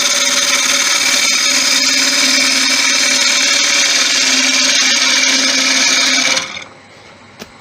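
A woodturning lathe spins a wooden bowl as a gouge faces it off, producing a steady loud whirring cut with a bright hiss that runs evenly, then abruptly stops near the end, leaving quiet.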